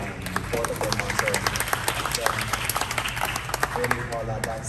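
An audience claps at a live event, with a dense patter of hands mixed with crowd babble and a voice talking over the applause.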